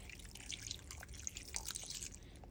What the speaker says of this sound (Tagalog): Lalagyan natin ng konting tubig.